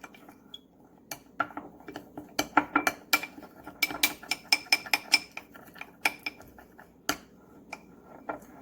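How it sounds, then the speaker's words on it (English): A utensil clinks and scrapes against a bowl while homemade mango butter mixture is stirred, producing a quick run of sharp close taps with short pauses and no talk. "And then mix it up really good so it's thoroughly mixed."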